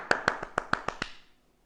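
Seven quick claps ring out in an echoing church, evenly spaced and moderately loud, with a short reverberant tail fading into quiet after the last one.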